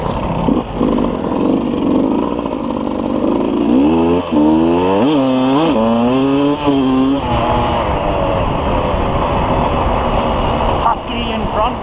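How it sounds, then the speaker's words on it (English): Off-road motorcycles, a Husqvarna in front followed by a noisy four-stroke bike, passing close with loud rising and falling engine revs and a rider-mounted roar, mixed with wind and background noise. "Husky in front, and some noisy four-stroke thing as well"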